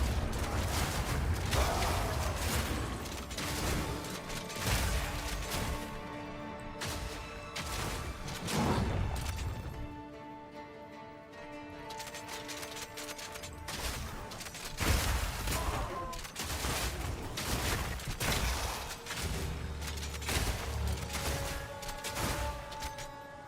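Shotgun blasts from a mercenary character in the action RPG Path of Exile 2 come in rapid, repeated bursts of booming shots layered with clanking effects and whooshes, steady and busy throughout.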